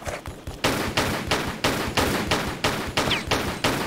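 Pistol gunshots in the video game Tomb Raider 4: a rapid, evenly spaced string of about eight loud, punchy shots, each with a short decaying tail, heard alone.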